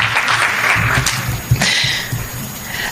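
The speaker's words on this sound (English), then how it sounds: "So let's all applaud you for that very wise decision" Applause from an audience at a medical improvement collaborative talk: a dense, steady wash of clapping that stays loud throughout.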